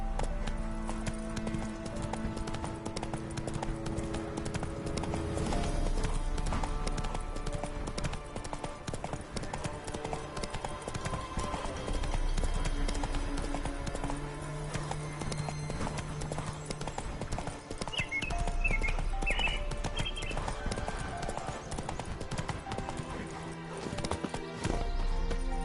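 Hooves of Roach, Geralt's horse in The Witcher 3, clip-clop in a steady galloping rhythm over a game music score, with a whinny partway through.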